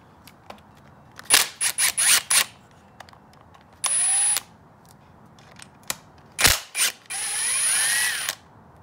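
A ratchet loosening 10 mm bolts on a Yamaha YFZ450 engine, quick clicking strokes in short bursts, followed by brief whirring runs of a power driver, close and alone.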